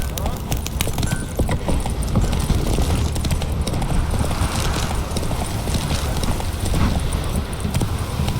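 The horse Roach galloping in The Witcher 3: Wild Hunt, a fast, close hoofbeat rhythm over a heavy low rumble, with muffled voices mixed in.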